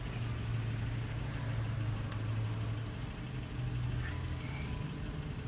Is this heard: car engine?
yes